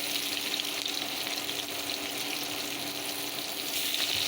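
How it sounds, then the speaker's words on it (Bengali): Chopped onion and raw shrimp frying in hot oil in a wok, a dense, steady sizzle and crackle that runs loud and unbroken from start to finish with no voices. "তেলটা গরম হয়ে গেছে দিয়ে দিলাম পেঁয়াজ কুচি পেঁয়াজ কুচির সঙ্গে দিয়ে দিলাম কিছু কাঁচা চিংড়ি"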